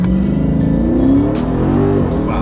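Dodge Charger Daytona 392 on drag radials launches hard: a loud, close engine roar climbs steadily in pitch as the car accelerates, with no talk.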